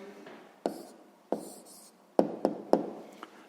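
A pen writes an answer on paper during math homework with soft, close scratching and several sharp taps as it strikes the page, heard alone without talk.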